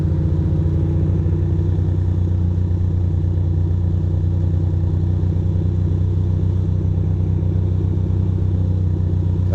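Steady motorcycle engine drone heard from the rider's position on a commute, a continuous low rumble with mild throttle variation and road noise, no talking.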